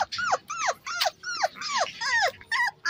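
A puppy from a litter of Shih Tzu, Beagle and Golden Retriever pups whimpers while lying on bare soil, giving about eight short, high, falling whines in quick succession, close and alone.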